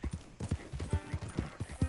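Horse hooves clip-clopping in the video game Red Dead Redemption 2, a brisk, regular trotting rhythm of hollow hoof strikes, close and clear, with faint background sound.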